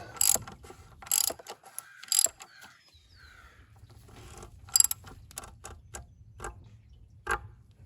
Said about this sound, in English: So I'm just using the ratchet now to run that part down.